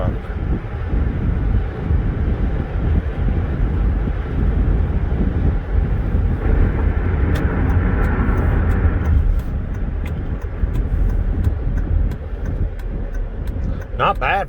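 Steady in-cabin drone of a 2006 Dodge Ram 1500 quad cab with a 3.7 Magnum V6 cruising at 65 mph, a constant low road and engine hum with wind noise and faint clicks throughout.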